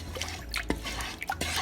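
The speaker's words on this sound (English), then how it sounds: "And I'm just stirring it." Warm water holding yeast, salt and cane sugar is stirred in a bowl, giving soft, close liquid swishes and small drips over a faint steady hum.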